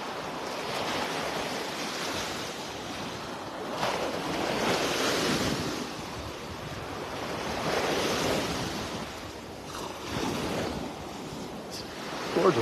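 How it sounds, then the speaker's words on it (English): Wind gusts over a beach at Wiggins Pass in North Naples, Florida, with ocean surf rolling in continuously, broadband rushing swells building and easing every few seconds, steady and fairly loud, no talking. "Here comes the wind."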